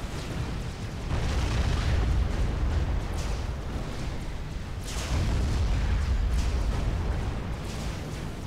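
Cruiser bombardment in Forged Alliance Forever, a continuous rumble of distant booming impacts swelling in two heavy waves, dense and low, with no talk heard over it.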